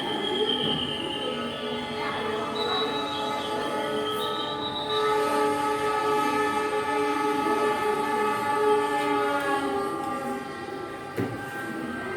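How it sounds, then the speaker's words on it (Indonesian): A train rumbles past up close across a street level crossing, with steady heavy rolling noise, a rising horn-like tone and metallic squeals ringing over the wheels. "jadi seperti ini ya kondisinya ketika kereta lewat melintasi jalanan"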